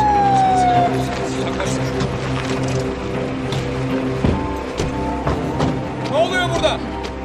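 A police car siren wails and sweeps in pitch beneath steady traffic and street noise, fairly loud and drawing closer, with a rising whoop near the end.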